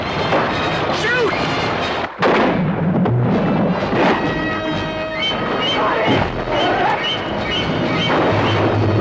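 Gunfire rings out in a trailer for the 1975 film Jaws: loud cracks and bursts mixed with shouting voices and dramatic music, dense and continuous.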